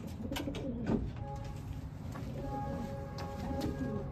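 Racing pigeons at the loft after a 150-mile race, giving soft repeated cooing calls close by, with faint background noise and no talk.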